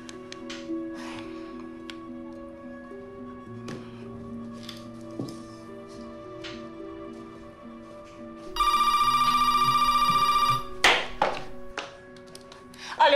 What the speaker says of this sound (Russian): Сейчас Насте позвоню на мобильный.